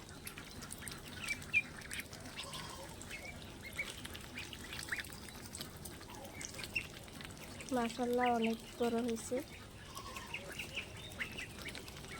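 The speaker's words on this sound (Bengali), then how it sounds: "মাত্র 15 দিনের হাঁসের বাচ্চা।" Fifteen-day-old ducklings at a farm give a short burst of quacking calls around the middle, fairly close, while someone talks quietly before and after.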